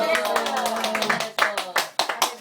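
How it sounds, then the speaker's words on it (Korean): Hands clapping at a family mother's birthday gathering in Yesan in 2011: a run of sharp, fairly close claps, sparse at first and then stronger and spaced in the second half, with people talking over them. "고모들이 박수도 안 치네 어,"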